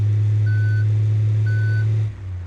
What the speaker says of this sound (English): Got a little beeper to let people know I'm definitely backing out of here.